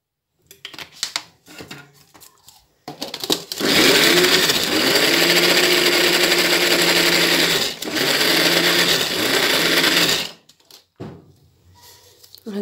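An electric grinder grinding amlou ingredients, starting after brief handling clatter and running loud and steady for about seven seconds with a short dip midway, then cutting off to quiet clinks.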